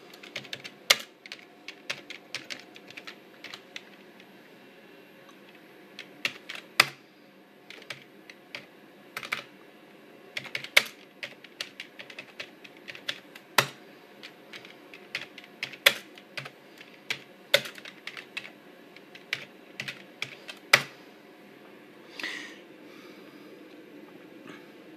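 Typing on a Packard Bell Legend computer keyboard, with irregular bursts of sharp, close key clicks and pauses between runs over a faint steady background hum.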